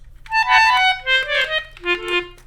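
A reedy, keyboard-blown melodica plays a short run of held notes, close and clear, with no voices.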